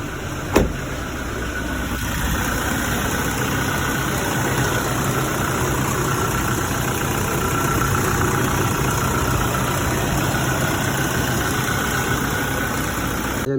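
A 2018 Toyota Fortuner B automatic 4x2 idling, a steady close engine hum with a faint whine that holds level throughout, after a brief click at the start, and no speech.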